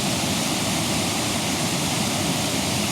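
Steady, dense roar of falling water, constant and full with no breaks, like standing near a waterfall; no voices.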